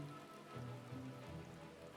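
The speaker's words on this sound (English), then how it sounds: "first the clouds and now the rain" Steady rain falls in the Final Fantasy XIV Shadowbringers game world, a soft, even wash of drops with no voices over it.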